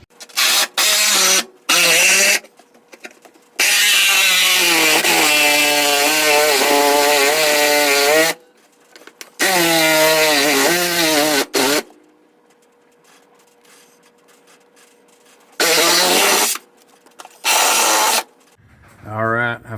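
A power cutting tool enlarges a hole in the transmission tunnel of an LS-swapped third-generation Camaro, in several loud, close bursts of wavering high whine separated by short silences.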